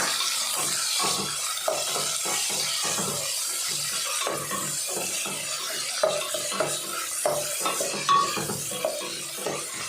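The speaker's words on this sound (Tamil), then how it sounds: "தக்காளி பழத்தை சேர்த்துக்கிட்டு வெங்காயம் தக்காளி நல்லா வதங்கி வர அளவுக்கு நல்லா வதக்கிக்கலாம்" Onion and tomato sautéing in a pan for vegetable kurma, with a spatula scraping and stirring in uneven strokes over a continuous soft sizzle, close and moderately loud, with occasional light clinks of utensil on metal.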